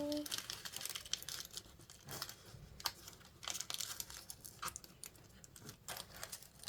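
Paper being cut and crinkled while wrapping tiny Christmas presents for a diorama, giving steady close rustling and crackling with scattered sharp snips and tears throughout.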